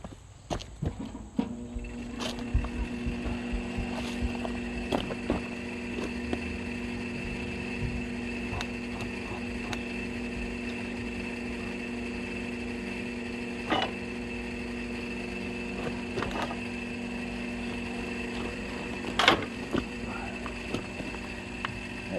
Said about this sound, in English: we're going to go and reverse the polarity or reverse the direction of this motor and see what's going on with that handle